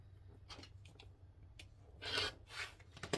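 Scissors or a cutter slice through sewn quilting fabric at a cutting table, giving a few short scraping snips and a longer rasping cut near the end, faint and close.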